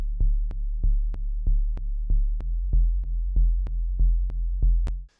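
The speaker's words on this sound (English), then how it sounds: "So here's what the first bass sounds like. It's just kind of a sub thing." Synthesized sub bass from a track sampled from tea sounds, a deep steady low tone pulsing in an even rhythm with sharp clicky transients on each beat, loud and alone without voices.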